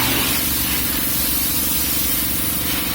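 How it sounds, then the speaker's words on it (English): Pressurized water spray cleaning a car engine bay at a car wash in Abu Dhabi, a loud, continuous hissing blast that stays steady and close for the whole stretch without any talk. "So now he is cleaning up the engine bay properly with water,"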